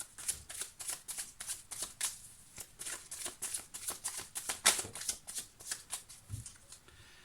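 Amethyst oracle cards are shuffled by hand before a reading, a close, quiet run of rapid riffling bursts repeating in an even rhythm, with no talking.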